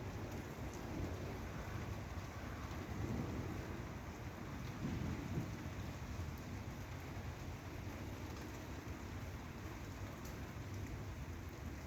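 An evening thunderstorm with steady rain and soft, distant thunder rumbling in low swells, heard alone without voices.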